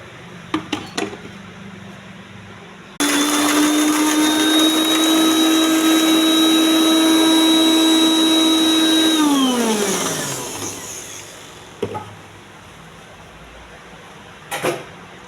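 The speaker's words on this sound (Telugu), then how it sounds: "మిక్సీ వేయాలండి." An electric kitchen mixer grinder whirs loudly and steadily for about six seconds while blending coconut, coriander, green chillies, jaggery and salt into chutney, then winds down. A few faint knocks come before and after.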